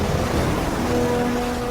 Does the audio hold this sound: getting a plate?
no